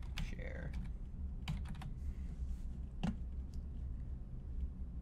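Keys clack faintly on a computer keyboard as a password is typed, a few scattered taps over a steady low background hum.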